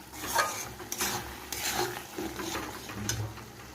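Garlic, green chillies and nigella seeds fry in a pan, giving a steady close sizzle with soft stirring scrapes and a few light clinks, with no voices.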